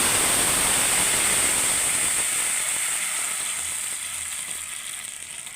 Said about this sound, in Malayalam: ഇതിലേക്ക് നമ്മൾ കുറച്ച് വെള്ളം ഒഴിക്കും.